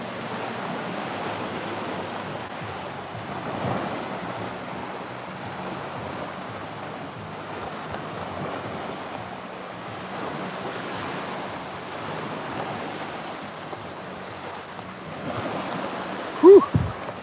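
Surf washing onto a beach in a steady, soft roar with gentle swells, mixed with wind buffeting the microphone and a brief bump near the end.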